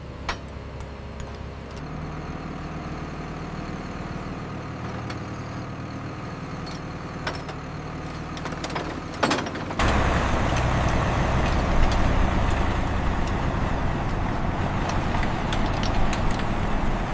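A CAT 320D excavator engine being lowered slowly off a trailer, heard as steady low mechanical rumble and clanks that swell into louder, denser engine noise partway through.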